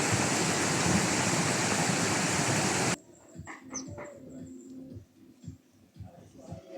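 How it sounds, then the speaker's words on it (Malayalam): A small waterfall on a stream beside a house gives a loud, steady rush of falling water for about three seconds before it cuts to quieter sound with a voice talking. "ഒരു അരുവിയുടെ സൈഡിലാണ് ഈ വീട് കേട്ടോ. ഇതൊരു ചെറിയ വെള്ളച്ചാട്ടം എന്നാണ് ഇവർ പറയുന്നത്."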